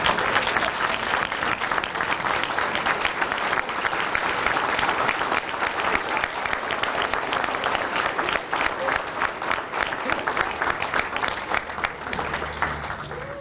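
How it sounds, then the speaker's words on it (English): Loud, sustained applause from a large standing audience honoring the 2019 honorees at an annual salute to women in public safety, dense steady clapping lasting throughout with faint crowd voices mixed in. "Please stand and give them all a round of applause."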